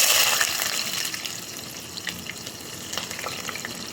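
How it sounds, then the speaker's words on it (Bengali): Onions frying in oil in a kadai for dal, a close bubbling sizzle that is louder at the start, with scattered crackles and pops, a few stirring touches and no speech. "ডাল রান্না করার জন্য কড়াইতে তেল দিয়ে দিয়েছি, এখন পেঁয়াজ দিয়ে দিলাম।"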